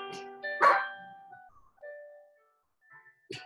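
A dog barks in the background: a few sharp barks near the start and another at the end, between quiet tonal gaps.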